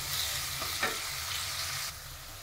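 Onions and green chilies stirred together in a pan for an amaranth leaf curry, a faint, steady sizzle with a couple of soft stirring scrapes and no talking.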